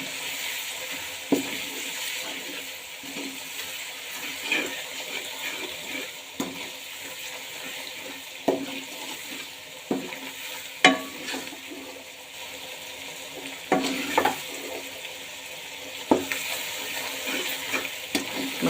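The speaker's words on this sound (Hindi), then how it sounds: "और इसको फ्राई कर लेंगे।" Chili flakes, turmeric and salt fry in a pan with a steady soft sizzle, broken by occasional spoon taps and scrapes at irregular intervals, close and fairly quiet.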